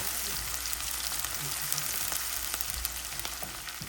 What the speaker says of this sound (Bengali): এখন এটা ব্রাউন হওয়া পর্যন্ত আমি ভেজে নিব।